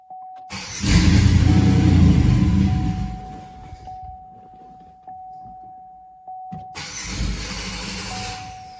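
A 2006 Buick Rendezvous 3.5 engine cranks loudly for a couple of seconds, then again after a quieter pause, trying to start but not catching; a steady electronic chime tone runs through most of it.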